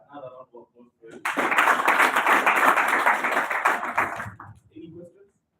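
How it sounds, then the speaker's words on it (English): Audience applause at a talk on building social capital, a dense burst of clapping lasting about three seconds after brief speech, loud and close, then fading as talk resumes. "Another round of applause for you."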